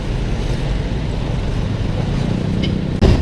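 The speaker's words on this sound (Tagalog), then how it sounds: "Grabe traffic ngayon ah." Heavy road traffic on a congested route toward SM Rosales rumbles as a steady, close wash of low engine noise, broken by a sharp thump near the end.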